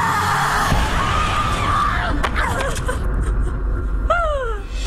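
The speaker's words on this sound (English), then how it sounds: "Just that big guttural scream" A big guttural scream performed on a film set for wire work, loud and raw at the start, then fading into rougher shouts and a trailing wail.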